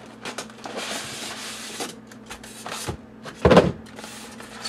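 A HobbyKing Turnigy TZ4 Mini Q 1/28 AWD touring RC car box is opened with scattered soft rubs and rustles of cardboard and packaging, then one louder, sharper tearing burst near the end.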